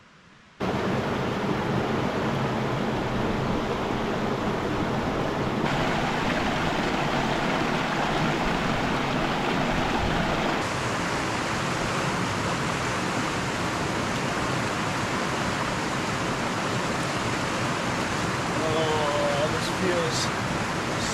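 Stream water flows at a wilderness watering hole along the William O. Douglas trail, a steady close broadband rush without pause, with a few faint bird chirps near the end.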